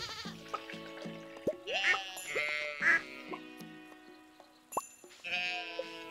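Sheep in the farming game Stardew Valley bleat several times in short, clear calls, interleaved with chiming game sound effects and a repeating tonal music loop.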